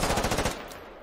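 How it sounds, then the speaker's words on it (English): Rapid automatic gunfire rattles in the video game Squad as a fast burst of shots, loud and close. It fades into a lingering echo with no voices. "now he's just shooting at whatever he wants to"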